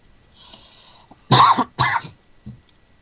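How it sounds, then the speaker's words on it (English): Two sharp, harsh coughs in quick succession, close and fairly loud, followed by a faint throat sound in an otherwise quiet space. "You're coughing a lot."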